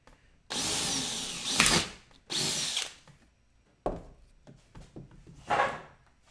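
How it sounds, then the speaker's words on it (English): A power drill bores a hole for a homemade dog treat dispenser, with two long whirring bursts, then shorter bursts and a final spin, close and fairly loud with quiet pauses between. "I'm going to go ahead and drill the hole"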